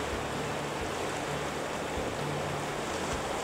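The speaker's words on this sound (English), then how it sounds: "great salmon fishing river, in full spate," The River Findhorn, a Scottish salmon river in full winter spate, rushes in a steady, loud broadband roar that holds unbroken and close throughout, with no voices.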